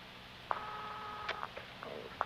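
A telephone is dialed in a scene set in classic Britain, a few short beeping tones and clicks followed by faint intermittent signal tones, fairly quiet with no talking.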